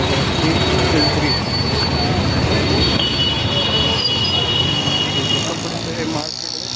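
A train runs past near Pimpri with wheels squealing, a loud sustained rumble and high metallic screech that eases toward the end while people talk under it.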